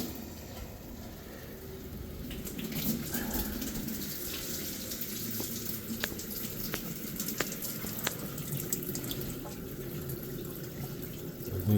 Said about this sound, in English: Yeah, I can turn water on.